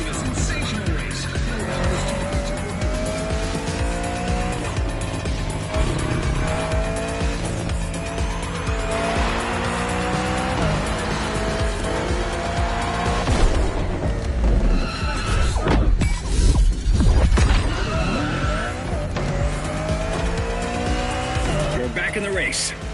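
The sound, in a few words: racing cars in video game The Crew Motorfest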